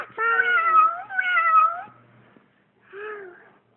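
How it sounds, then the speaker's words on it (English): A cat meows two drawn-out, wavering times close up, followed by a pause and a shorter third meow, clear and alone against silence. "C is for cat."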